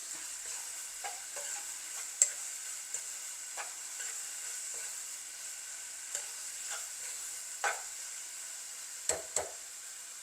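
Sri Lankan seeni sambol with sugar being stirred in a pan: a soft, continuous sizzle broken by sporadic spoon scrapes and clacks, a few of them louder.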